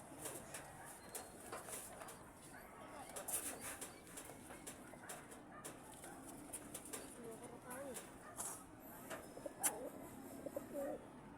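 Pigeons cooing in low repeated calls with bursts of wing flapping, moderately close over a soft outdoor background, with faint voices now and then.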